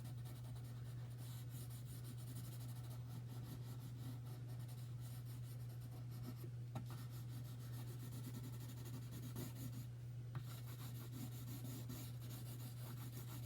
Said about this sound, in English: so I'm using the pencil on its side here